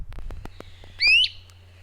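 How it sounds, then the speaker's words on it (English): A great crested flycatcher in a park gives a single sharp, rising whistled call that stands out clearly against a quiet background with faint low hum and a few soft clicks. "the lilting melodies of songbirds such as the great crested flycatcher"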